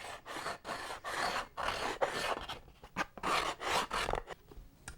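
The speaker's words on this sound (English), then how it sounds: "If it isn't sanded properly, let's face it, it isn't a modeler's job" A model aircraft part, for a control-line stunt flier, is sanded by hand: close, steady rasping strokes repeat in a quick back-and-forth rhythm with brief gaps, and no one speaks.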